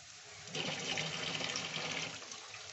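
Water poured into a pan of egg and potato curry, a steady rushing splash of liquid lasting over a second, close and moderately loud.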